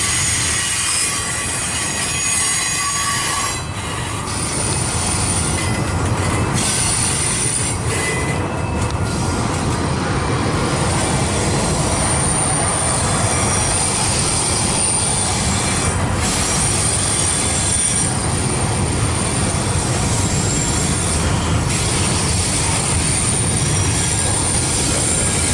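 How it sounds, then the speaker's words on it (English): A slow freight train creeping past on a busy rail line near a diamond crossing, its wheels squealing loudly and continuously over rumbling cars and occasional clickety-clack, close by. "Stuck behind the train, it's crawling like a snail."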